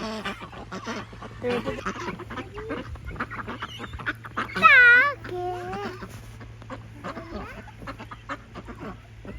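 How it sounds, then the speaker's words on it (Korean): Ducks at a hotel pond at the Kensington Hotel in Pyeongchang give a few loud, nasal honking quacks, with one burst standing out midway, while people and children chatter nearby. "우리 오리 보러 가자 저기 오리 있어?"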